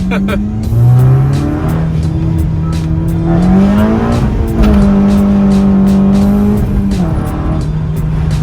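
A 9th-generation Honda Civic Si with a Clutch Masters FX400 clutch revs hard and climbs through gears, with a sustained tire squeal and skidding whine, loud and close throughout.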